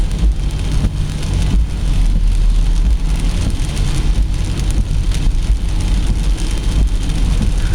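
Steady heavy rain drums on a car roof while driving in Algonquin, a dense continuous patter with road rumble underneath, loud and close.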